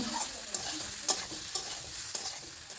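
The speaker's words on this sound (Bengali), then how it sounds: "হলুদ আর লবণটা দিয়েও ভালো করে মিশিয়ে নেব" Drumstick vegetables fry with salt and turmeric under a steady sizzle, while a spatula scrapes and taps the pan about four times in an even rhythm, close by.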